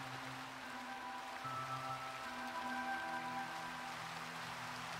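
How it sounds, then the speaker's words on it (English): Rain falling in Minecraft, a soft continuous patter heard faintly beneath low sustained music tones. "And it's starting to rain."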